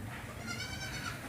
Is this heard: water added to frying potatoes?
no